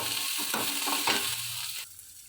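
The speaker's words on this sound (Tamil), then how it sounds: "பெரிய வெங்காயம் நம்ம எடுத்து போட்டு வதக்கிக்கணும்" Sliced large onions and green chilies sautéing in a hot pan for a chickpea kurma, a steady close sizzle with stirring scrapes that drops off near the end.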